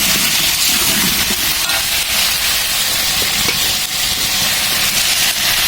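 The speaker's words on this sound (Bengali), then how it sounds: "এখন এর ভিতরে একটু হলুদ আর লবণ দিয়ে আলুগুলো ভাজতে হবে।" Potatoes fry in oil with turmeric and salt for aloo dum, giving a steady, loud, hissing sizzle that runs unbroken throughout with no talk.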